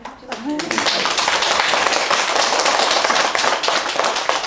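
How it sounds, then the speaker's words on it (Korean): Sustained audience applause fills a large meditation center lecture hall, dense clapping continuing evenly after a brief voice at the very start. "박수 주시죠."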